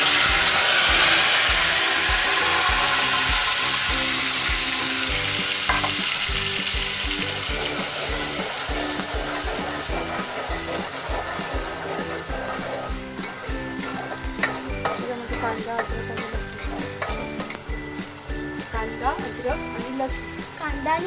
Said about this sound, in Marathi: आता कांद्याची पेस्ट टाकूया।